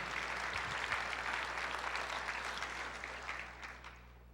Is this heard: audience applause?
yes